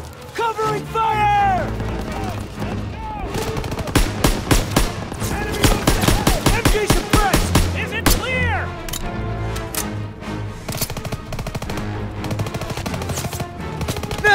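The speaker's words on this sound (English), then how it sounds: "You gotta suppress the machine gun." Machine gun fire in the Call of Duty WWII mission on Hill 493, a steady rattling stream of rounds mixed with explosions and tonal battle music, with soldiers shouting orders over the din.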